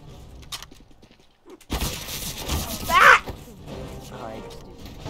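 Weapon fire in CS:GO from a gun with heavy recoil: a short burst of shots erupts after a brief lull, with one sharp louder crack in the middle, mixed with game noise and a voice talking.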